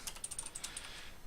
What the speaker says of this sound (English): I can start typing. So I can type like hello world.